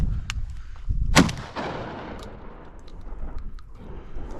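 A single loud shotgun blast at chukar flushing on a steep Hells Canyon slope, sharp and close, followed by rustling and outdoor noise with no talk.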